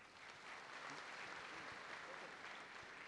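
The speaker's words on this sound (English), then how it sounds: "Give a good applause for him." Audience applause in a student assembly hall after a question is praised, a continuous, fairly quiet and even patter of many hands with faint murmuring underneath.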